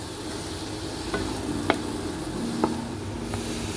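Motichoor laddu mixture is stirred with ghee in a pan, giving a steady low sizzle broken by a few sharp scrapes and taps of the spoon against the pan.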